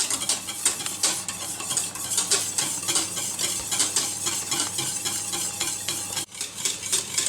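Vanilla pastry cream thickens in a pot on medium heat for a flan while a utensil stirs it briskly and continuously, with rhythmic scraping against the pot and a soft bubbling sizzle, close up and without talk.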